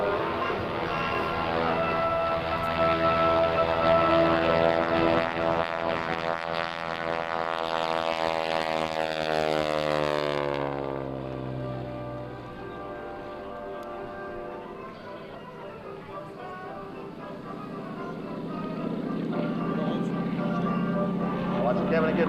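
An SNJ propeller airplane flies past at an airshow with smoke on. Its engine drones and rises in a swelling, Doppler-shifting pass, then fades into distant hum while an announcer talks.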